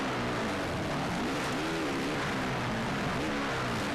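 Motocross bike engines in the MXGP racing game at the Maggiora track in Italy, a continuous buzzing drone whose pitch rises and falls as riders rev and shift, fairly loud and steady with no talk.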